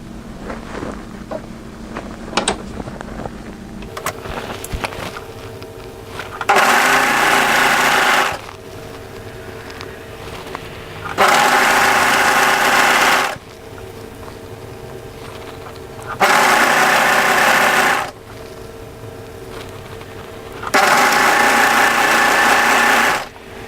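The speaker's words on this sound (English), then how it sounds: "We're going to overlock through this long edge and across the top of the triangle" An overlocker runs along the long edge of a knit cardigan's fabric and across the top of a triangle, loud sustained whirring bursts of a few seconds each, four in a row, separated by quiet pauses with faint handling noise.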